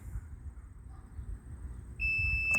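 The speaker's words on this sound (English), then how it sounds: "You'll hear that little beep." A short, high electronic beep from the power liftgate of a 2022 Mitsubishi Outlander SE near the end, following a low background hum.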